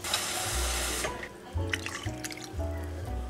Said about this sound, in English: now we're just gonna put 1 cup of water